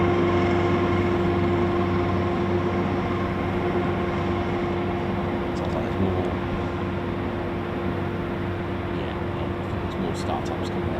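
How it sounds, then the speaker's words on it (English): Three Eurofighter Typhoon FGR4 jets taxiing for departure at an RAF station produce a steady, droning engine whine that holds throughout, heard from a distance with faint voices nearby. "So, 3 Typhoons taxiing down for departure."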